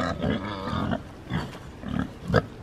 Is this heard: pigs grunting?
yes